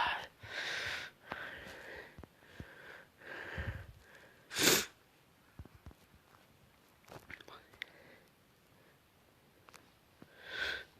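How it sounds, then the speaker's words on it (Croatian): A person playing a FIFA Mobile match gives one sharp, loud cough amid quiet, soft-spoken talk and small rustles and handling sounds. "primećete da ja opet kašljem."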